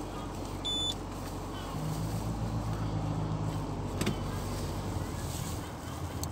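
A car drives through a town in the UK, a steady low engine and road hum from inside the cabin, with a short electronic beep near the start and a faint knock later.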